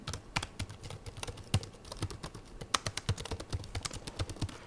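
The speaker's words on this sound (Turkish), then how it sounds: "sizlere klavye sesini dinleteyim." Rapid, uneven clacking of fingers typing on an ASUS VivoBook 14X OLED laptop keyboard, close and crisp, with no voices.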